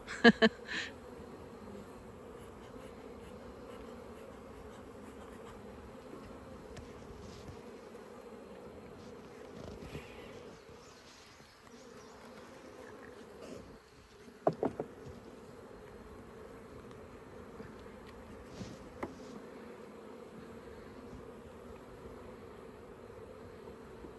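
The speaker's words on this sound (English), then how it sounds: "You got a little bee on your finger." Bees hum in a steady, faint, continuous drone throughout a beehive inspection, with occasional brief handling clicks and knocks rising above the buzzing.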